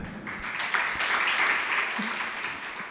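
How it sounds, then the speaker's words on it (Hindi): Audience applause at a spiritual discourse by Somya Sagar Ji Maharaj, a steady wash of many hands clapping together, sustained and fairly loud throughout with no voices over it. "कुछ लोग तो तालियां भी प्रसन्नता के बारे में उदास होकर बजा रहे हैं"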